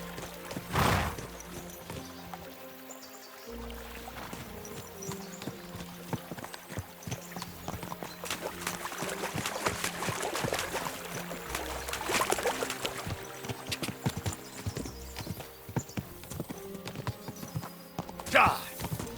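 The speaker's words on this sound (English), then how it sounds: "we'll give the horses a gallop again" Horses galloping in the video game Kingdom Come Deliverance II, a steady run of hoofbeats with jingling tack and flowing water nearby, an occasional whinny, and game music underneath throughout.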